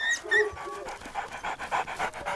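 A dog panting close by, a quick run of rhythmic breathy huffs with a faint whimpering tone at the start, steady and fairly loud.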